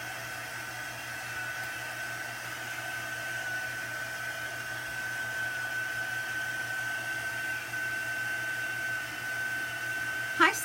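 Heat tool blowing steadily to dry chalk paste during a craft session, a constant whirring hiss with a faint high whine, fairly quiet, ending in a short bump.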